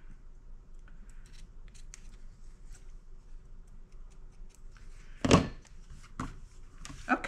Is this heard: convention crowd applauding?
no